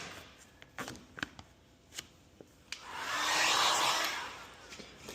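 A heat gun blows steadily for about two seconds while post-heating tint film on a 2019+ Chevrolet Silverado taillight, preceded by scattered handling clicks and taps nearby, no talking.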